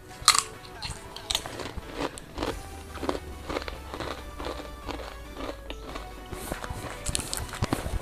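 Jalapeno pita chips dipped in sweet chili garlic dip are crunched and chewed close to the mic in repeated crisp bites, with soft mouth sounds between them.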